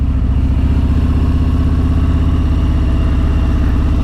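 A Harley-Davidson Road Glide, a heavy touring motorcycle of roughly 900 pounds, rumbles loud and close with a deep, steady, pulsing V-twin beat as it slows at a roundabout while shifting from second down to first gear.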